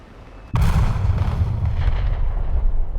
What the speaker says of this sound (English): Let's see how it looks like when we bomb a ship.